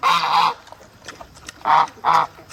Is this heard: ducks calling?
yes